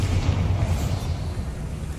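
A Bombarda spell explosion in Hogwarts Legacy, a deep, loud rumbling boom that fills the moment and rolls on with low, heavy energy before trailing off, with no talking.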